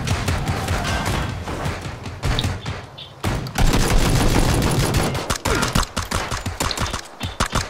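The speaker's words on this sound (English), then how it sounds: "They're already shooting at you" Video game gunfire in PUBG: dense bursts of automatic rifle fire and rapid single shots crackling in quick succession, loud and close, with brief gaps between volleys and no speech.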